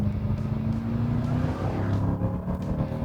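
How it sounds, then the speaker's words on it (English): A 2021 Dodge Durango Hellcat SUV with its supercharged engine, a steady loud drone with a sustained whine rising and falling over the engine rumble, close and continuous throughout. "The whine of the supercharger."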